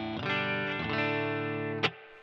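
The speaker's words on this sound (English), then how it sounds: "this is playing the telly straight into the clean channel with everything at noon" A Telecaster plays straight into the clean channel of a Koch Studiotone 20 head with every control at noon: bright, sustained chords ring out close and clear, restruck a couple of times before a sharp click near the end.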